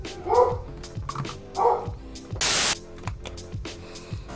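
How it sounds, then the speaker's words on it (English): A dog barks in short, sharp bursts several times close by, with a burst of static-like noise in the middle. "Dog!"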